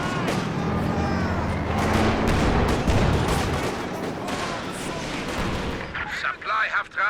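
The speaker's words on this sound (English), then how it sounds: "it's a good load of rockets on top of that Raketin" A heavy rocket barrage from a Raketenwerfer in a Company of Heroes 2 match, rolling as dense, continuous blasts and explosions for several seconds before thinning out, loud and close.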